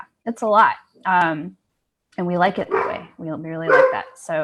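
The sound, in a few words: dogs barking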